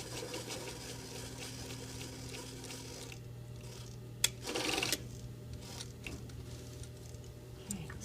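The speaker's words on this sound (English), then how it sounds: "Okay, stitch on this machine." A sewing machine runs steadily while stitching fabric, giving a continuous mechanical hum and whir for about three seconds, followed by a few clicks and a short burst of rustling as the machine stops.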